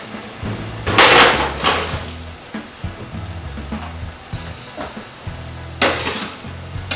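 Cauliflower sizzling in a hot pan while a utensil scrapes across the bottom, giving steady frying hiss broken by two loud scraping strokes and a few clinks.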